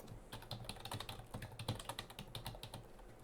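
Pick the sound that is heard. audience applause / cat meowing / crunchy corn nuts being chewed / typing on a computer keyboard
typing on a computer keyboard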